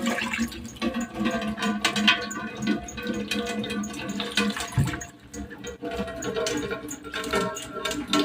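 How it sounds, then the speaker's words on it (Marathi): Wheat milk is strained through a cotton cloth, giving a steady, continuous trickling and splashing of liquid at close range with no pauses. "मी आता अशाच पद्धतीने गाळून घेणार आहे"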